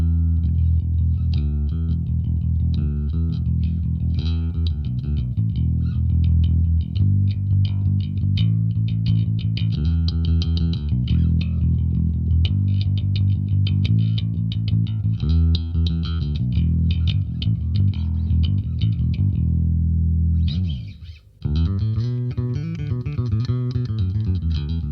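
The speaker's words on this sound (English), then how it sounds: "We start listening to the Ampeg without any distortion." Bass guitar played through an Ampeg SVT amp with a clean tone and no distortion, a loud, continuous run of low notes and riffs lasting throughout, with a brief drop near the end before playing resumes.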